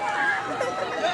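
A crowd of spectators at a grand medieval joust, a continuous mix of booing and cheering with babbling voices and no single voice standing out.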